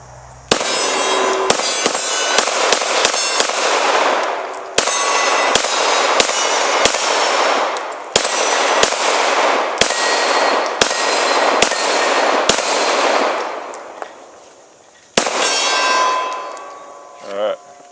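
Rapid Glock pistol shots ring off steel targets outdoors, loud sharp cracks each followed by a metallic clang, fired in quick strings with brief pauses between volleys.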